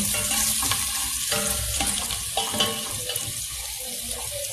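Onion, celery and garlic sautéing together in a pan, a loud, dense sizzle throughout with repeated stirring knocks and scrapes, close up and with no talking.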